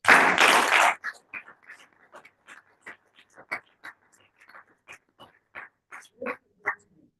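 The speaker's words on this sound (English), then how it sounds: "Round of applause." An audience at a Toastmasters club change-of-guard ceremony breaks into a loud burst of clapping that lasts about a second and stops abruptly, followed by scattered faint, short sounds.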